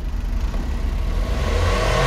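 A top-of-the-line minivan's turbo engine runs close by, a steady mid-pitched hum that swells into a rev with a faint whir and light clatter.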